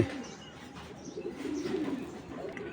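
Soft, low pigeon coos roll continuously in the background, close by, with faint rustling around them.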